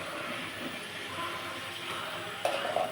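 Spice paste tipped into garam masala frying in oil sizzles steadily for three seconds with soft stirring scrapes, and a brief sharper crackle flares near the end.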